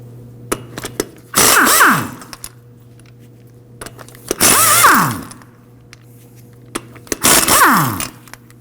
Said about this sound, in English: We can go ahead and remove the lug nuts with a 19mm